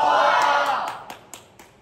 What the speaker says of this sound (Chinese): 听到大家的掌声，我非常的感动